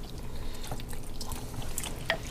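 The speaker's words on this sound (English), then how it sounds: "Now, we're gonna put the rest of our broth in." Broth poured into a crock pot of chicken, sausage and shrimp gumbo, a soft continuous liquid trickle at low level with a faint clink near the end.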